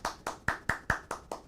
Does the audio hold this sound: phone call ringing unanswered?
no